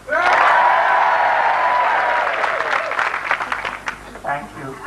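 A studio audience at a 1996 TV pilot show cheers and whoops loudly on cue, then breaks into thinning applause and scattered voices as the roar fades.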